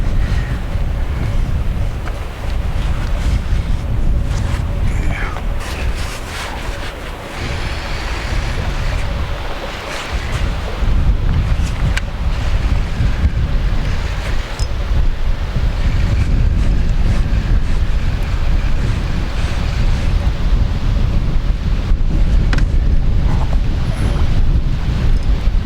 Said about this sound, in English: murder trying to fish in these windy conditions